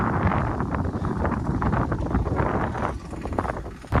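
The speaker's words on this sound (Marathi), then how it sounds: "आणि हवा कसली सुटली असा" Strong wind gusting across open farmland where groundnuts are being sown, a steady roaring buffet of noise battering the microphone for the whole stretch, with no voices.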